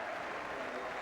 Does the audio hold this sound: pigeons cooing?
no